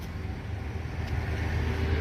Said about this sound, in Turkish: Bu küçük minibüs.